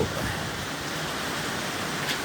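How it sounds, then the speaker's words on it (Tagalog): Steady, dense rain hisses continuously at an even level, with no other sounds standing out. "Walang tigil ang ulan."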